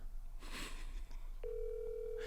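Telephone dial tone while placing a call: after a brief rustle and click, a steady, even tone starts and holds unbroken, fairly clear against quiet room noise.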